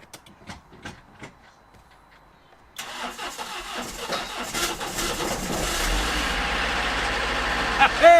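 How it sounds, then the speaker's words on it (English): A Renault car engine, jump-started with a Topdon jump starter, catches after a few faint clicks and quiet handling sounds, then cranks into a steady, loud running idle with no speech heard. "I'm surprised that it started the engine"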